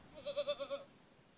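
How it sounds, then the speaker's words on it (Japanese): A goat bleats in the video game Tokimeki Memorial GS4, a single wavering call of about five quick pulses that is clear, close and fairly soft, with no talk over it. "あれ、羊ではないですね。 ヤギだね。"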